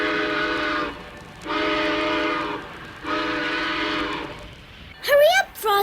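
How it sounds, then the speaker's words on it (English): A cartoon train's whistle blows three long, loud, steady blasts as it pulls out, each separated by a brief gap, and a short excited voice follows at the end. "The train is pulling out."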